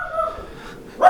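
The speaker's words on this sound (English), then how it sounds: "Oh, there went my dog." A dog indoors gives a whimpering, whiny vocalization that rises into a short sharp bark at the end, fairly close and alone with no talk.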